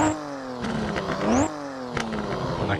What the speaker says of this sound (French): On a quelques petites pétarades là, des retours à l'échappement.